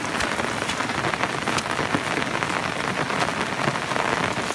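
Heavy rain pours steadily onto a surface, a dense, unbroken hiss of drops with no talking, loud and close throughout.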